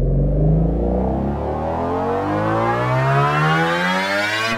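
An FM synthesizer tone with a strong pitch envelope, a loud buzzing harmonic-rich note sweeping steadily upward from a deep rumble to a high pitch over several seconds, alone with no talking.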